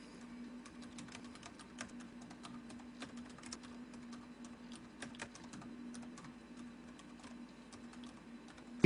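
Faint, quick clicks of a computer keyboard as text is typed, uneven taps spread across the whole stretch under a low steady hum; no speech.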